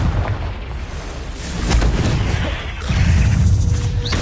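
Confringo blasting-curse explosions in the Hogwarts Legacy video game: a steady, heavy roar with booming blasts swelling midway and again toward the end, loud and close.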